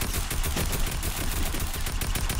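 A tactical assault rifle in a video game fires hip-fire shots in a loud, continuous rapid burst of close gunfire that fills the whole moment.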